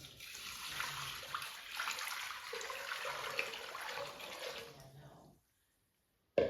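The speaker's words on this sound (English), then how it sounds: "I'm gonna pour in, I have 7 cups of water." Water is poured steadily into a pot for chicken pho broth, a continuous splashing pour for about five seconds that cuts off abruptly, leaving silence before a brief knock at the end.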